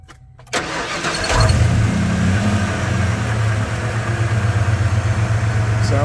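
A 1995 Ford Bronco with a new intake cranks over and catches, then settles into a steady, loud, smooth idle close by, with no talking.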